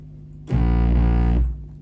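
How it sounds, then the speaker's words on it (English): A sine-wave bass sampled into a Casio FZ-1 sampler plays one sustained, buzzy, distorted low note lasting about a second, then fades, with no talking over it. "That is the sound of the sine wave sampled"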